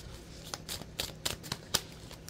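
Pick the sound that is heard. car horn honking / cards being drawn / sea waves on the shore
cards being drawn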